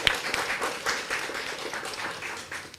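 Brief applause from a gathered crowd at a book dedication event in Conakry, a steady patter of moderate clapping lasting a few seconds.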